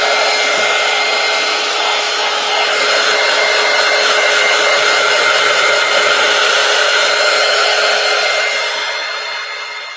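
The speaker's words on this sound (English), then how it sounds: "Let me hit this with the heat gun." A heat gun blows continuously on a collage pumpkin, a loud, even rushing hiss that runs steadily and tapers off at the end.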